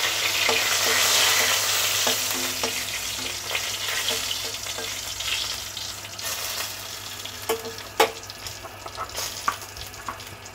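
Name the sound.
bay leaf and dried chillies sizzling in oil in wok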